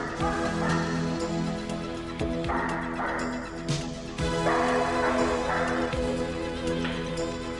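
A drug detection dog in training gives repeated barks and yips over about eight seconds, close and fairly loud against a droning background.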